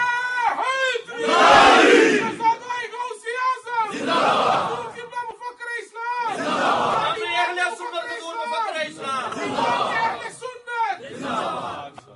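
Religious gathering where a crowd chants slogans in loud, rhythmic bursts, several rising waves of many voices shouting together with chatter between them.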